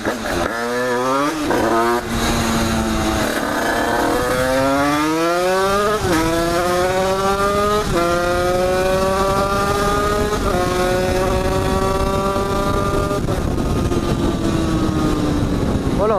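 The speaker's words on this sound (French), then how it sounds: "Alors là du coup moi j'accélère, hein, forcément je fonce" A vehicle engine accelerates hard on an empty road during a chase, loud and close, its pitch climbing through repeated gear changes across the whole stretch with no pause.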